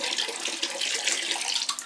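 Water poured over Phalaenopsis orchids makes a steady, close splashing wash that runs the whole time with small bursts, and no one talks over it.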